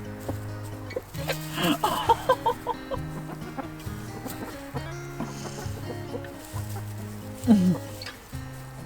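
A rooster and hen cluck in a homestead chicken coop, a string of short close clucks and squawks under occasional background speech.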